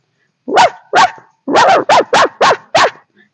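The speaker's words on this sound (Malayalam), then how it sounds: "എന്റെ വീട്ടിലെ നായ വെറുതെ കിടന്ന് കുരയ്ക്കാൻ തുടങ്ങി" A dog barks close by: two barks, a short pause, then a quick run of five barks, with silence around them.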